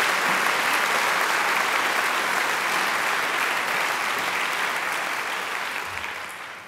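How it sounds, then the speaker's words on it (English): An audience at a graduation ceremony gives a sustained round of applause, a dense, even wash of clapping that holds steady and then tapers off at the end. "Let's give her another great round of applause."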